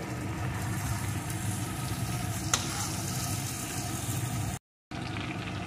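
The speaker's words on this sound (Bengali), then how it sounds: "এরকম মোটামুটি ভাজা হলেই আমি এই তেল থেকে চিকেনগুলোকে তুলে নেব" Chicken pieces fry in hot oil for chicken curry with a dense, even crackling sizzle, close up and steady, broken once by a short silence.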